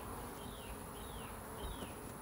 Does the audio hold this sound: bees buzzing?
yes